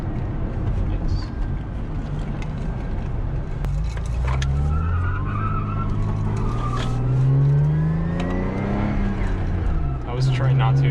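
Lexus IS300 cruising on a highway, a steady drivetrain drone with rising and falling whine from the transmission beneath constant road noise, while people talk inside the car.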